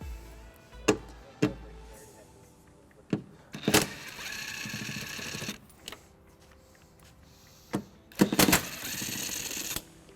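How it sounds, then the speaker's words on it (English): Bolts are removed with a 10mm socket from the driver's side tail light of a 2018 Dodge Grand Caravan, heard as a few sharp ratcheting bursts and clicks separated by quiet pauses, close to the microphone with no talking. "We're going to remove these two bolts using a 10mm socket."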